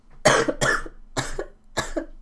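Four harsh, close coughs from one person, the first two in quick succession and the rest spaced out, loud against a quiet indoor background.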